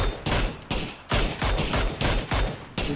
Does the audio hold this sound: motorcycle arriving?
no